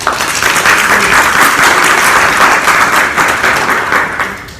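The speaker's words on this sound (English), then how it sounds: "So we want to just give our students one more big round of applause." Sustained audience applause for students at a county board of education meeting, a steady, dense round of clapping that holds evenly for several seconds before easing slightly at the end.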